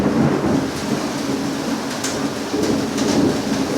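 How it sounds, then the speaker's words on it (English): Rolling thunder during a rainstorm, a deep continuous rumble with steady rain hiss on top and a few brighter crackles, fairly loud and unbroken with no voices. "that thunder."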